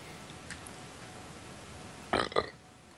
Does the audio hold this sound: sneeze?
yes